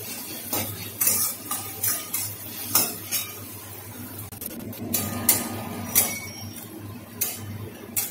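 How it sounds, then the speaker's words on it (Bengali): Sliced onion frying in a pan for a pointed gourd curry, with a steady low sizzle under repeated sharp metallic clinks and scrapes of a spoon stirring against the pan. "পেঁয়াজটা একটু লাল লাল করে ভেজে নেব।"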